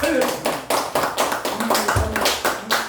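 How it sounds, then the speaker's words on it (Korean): A church congregation claps together in steady rhythmic unison, firm close beats repeating about twice per second without any voices over them. "박수 한번 쳐주세요"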